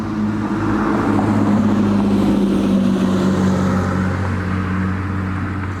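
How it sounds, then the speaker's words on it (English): Several car engines rumble and rev together in a normally quiet residential neighborhood, a steady loud drone with rising and falling pitch that continues throughout, no speech. "There's a bunch of cars making noise."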